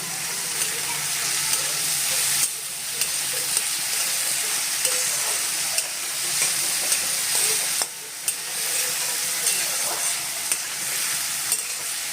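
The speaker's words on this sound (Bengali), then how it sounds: "আলুটাকে কিছুক্ষণ নাড়াচাড়া করব, হালকা হালকা করে ভাজবো।" Potatoes seasoned with salt and turmeric fry in a pan, giving a continuous loud sizzle broken by scraping stirs and brief dips as the pieces are turned.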